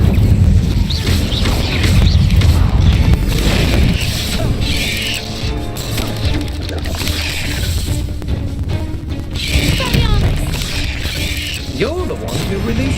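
Incendio fire spell blasts in Hogwarts Legacy, a loud, dense run of mechanical crashing and whooshing impacts with creaking and clattering layered over a busy game soundtrack for the whole stretch.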